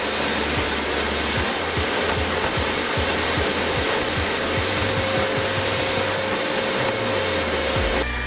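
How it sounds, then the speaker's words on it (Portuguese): Vacuum cleaner sucking up ash from a laser-engraved surface, a loud continuous roar with rhythmic rubbing, scraping strokes underneath, cutting off abruptly at the end. "Agora eu vou passar o aspirador para remover a cinza."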